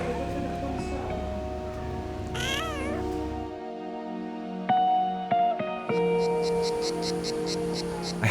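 Cats on the Greek island of Skiathos, including kittens, meow in a few sharp, wavering calls over a steady background hum, then clicks and faint high tones follow.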